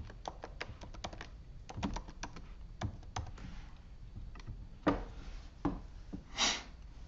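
Someone types an email address and password on a computer keyboard, a quiet, close run of uneven key clicks with short pauses between bursts.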